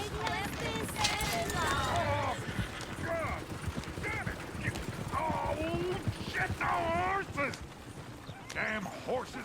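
Horse hooves clip-clop in Red Dead Redemption, a steady run of hoofbeats under nearly continuous in-game talk, with a possible whinny briefly mixed in.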